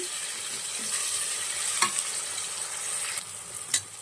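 Tomato frying with goat head meat in a pan, a soft continuous sizzle with a few stirring scrapes and knocks, close but moderate in level.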